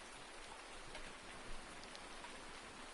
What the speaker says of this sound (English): I guess it is a little rainy, but look how rainy it is out here.